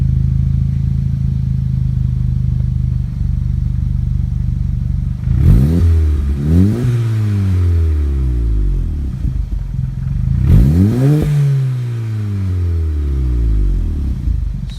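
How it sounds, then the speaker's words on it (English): VW Mk7 GTI with catted turbo-back exhaust, Vibrant 17950 resonator and Borla Pro XS muffler, idling loud and close before two sharp blips of revving that climb and fall back, no talk. "let you see how the catted turbo back exhaust with the vibrant 17950 resonator and Borla Pro Xs muffler sounds"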